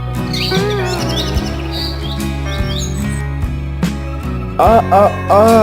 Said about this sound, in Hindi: टूनी चिड़िया बार बार क्यों उस बैगन के पेड़ पर भला क्यों जा रही है?